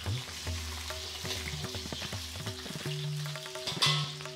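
Two Byadagi chillies sizzling in hot tempering oil with chana dal and urad dal, a steady close crackle and fizz broken by light stirring and clinking sounds, with no talking.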